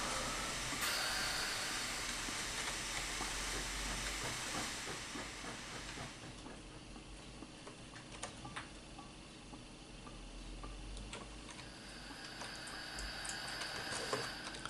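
Steam locomotive in Train Simulator 2017, a steady broadband hiss of venting steam filling the whole stretch, loud at first and easing slightly after a few seconds, with faint ticking and rail clatter underneath and no talk.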